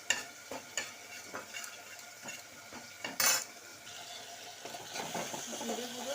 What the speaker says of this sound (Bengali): জিরে গুঁড়ো আর কাশ্মীরি মেথিটা ড্রাই রোস্ট করে নিচ্ছি।